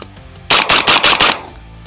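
Shots from a cheap suppressed firearm aimed at steel, a rapid string of five loud, muffled reports in quick succession, close, then a short fading tail.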